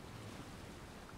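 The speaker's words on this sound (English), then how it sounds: "the waves are so not helping" Ocean waves in Assassin's Creed Odyssey wash in a soft, steady surf hiss, faint and continuous with no break.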